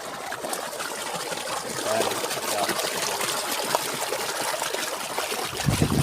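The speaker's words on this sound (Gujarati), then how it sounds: "પાણી વાળવાનું ચાલુ છે પાણી ચાલુ છે" Irrigation water runs through a farm field with a steady, close trickling and gurgling flow, continuous for the whole stretch with no clear speech.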